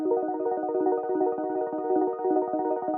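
Polymax synthesizer preset playing a pulsing chord, rapidly gated in an even, rhythmic chop that repeats steadily for three seconds. The sound is close and alone, with no voices.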